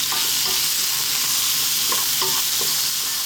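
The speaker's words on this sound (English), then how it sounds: "staying on this high heat and just stir frying this around" Steady hiss of bell peppers stir-frying in a pan over high heat, with occasional scraping and clinks as they are stirred around; no talking.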